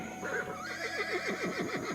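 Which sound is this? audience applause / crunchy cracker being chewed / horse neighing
horse neighing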